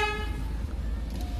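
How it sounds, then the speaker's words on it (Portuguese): Horn of a 2024 Chevrolet Onix RS car, one loud toot with a clear pitched tone that cuts off quickly, followed by low idle rumble and faint background sound. "Detalhe da buzina, ó."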